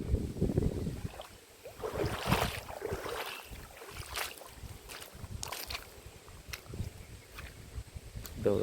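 Gusty cold wind buffets the microphone in uneven bursts, with faint background voices and outdoor noise between the louder rumbles.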